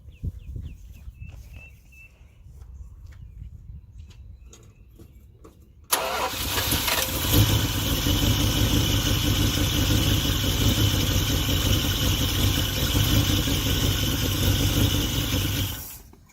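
A Dodge Ramcharger engine, fed from a gas can through an added hose on the fuel pump, cranks and fires suddenly after quieter rustling, then settles into a loud, steady, slightly rough idle that runs close by before cutting off.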